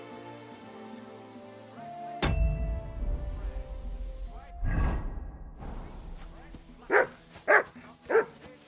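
Dog barking in the medieval open-world game Kingdom Come: Deliverance 2, three sharp, loud barks in quick succession near the end, following bustling town ambience with a heavy thud and shuffling noises.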